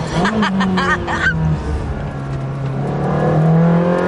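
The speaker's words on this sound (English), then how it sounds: "right behind me is a Ferrari sort of camouflaged" A camouflaged Ferrari test car drives close behind on a road, its engine humming and rising in pitch, loud and steady throughout.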